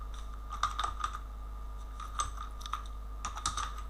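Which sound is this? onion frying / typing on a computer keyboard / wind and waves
typing on a computer keyboard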